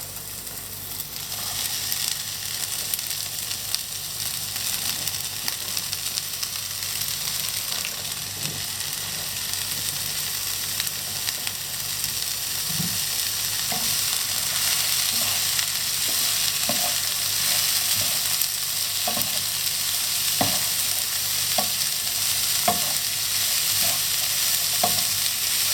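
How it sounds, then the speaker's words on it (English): Mushrooms and onion frying together in a pan, a steady close sizzle throughout with occasional scraping taps as they are stirred, no talk. "we add the mushroom in the pan with the onion and we leave them cook during 10 minutes"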